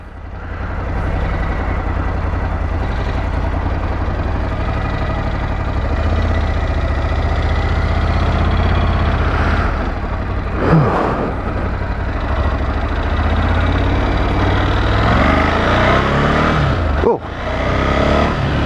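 Ducati Scrambler 1100 fitted with Termignoni exhausts, engine running close and steady with throttle changes and a brief rev as it pulls away, a continuous loud rumble throughout.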